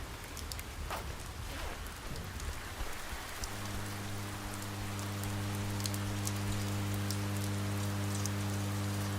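Heavy rain pours steadily through a rainstorm in the video game Oxenfree, a dense continuous hiss, and a low droning tone joins partway through and holds under the rain to the end.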